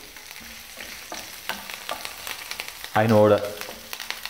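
Green chilies frying in a pan for Gobi Manchurian, a soft crackling sizzle with scattered stirring taps, and a brief spoken word breaking in partway through.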